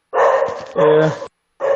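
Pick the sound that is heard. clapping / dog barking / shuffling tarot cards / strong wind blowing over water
dog barking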